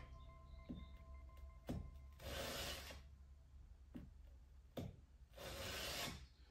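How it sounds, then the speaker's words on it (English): Wood chisel pushed and pulled flat on sandpaper during sharpening, soft rasping strokes in a slow back-and-forth rhythm, with longer scraping passes and short scuffs between them, close and quiet. "we're going to take the chisel, we're going to start here, start from the back, push down and back, keeping it nice and flat"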